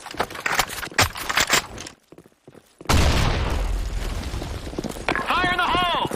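A grenade goes off in a desert shooter video game, a loud close boom with a rumbling blast tail after a burst of sharp clattering gunfire and a brief gap. Gameplay voice callouts and chirpy effects play over the blast.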